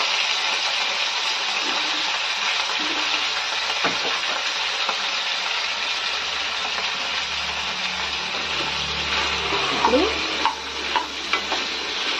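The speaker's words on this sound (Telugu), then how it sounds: "ఆయిల్లో బాగా వేయించుకుందాం" Drumsticks sizzle steadily in hot oil alongside onions for sambar, a continuous close frying hiss with a few scrapes and clinks of the pan near the end.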